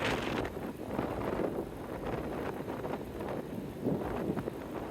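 Wind blasting a microphone while cycling on a long ride, a loud, rough, buffeting roar that surges and eases unevenly throughout.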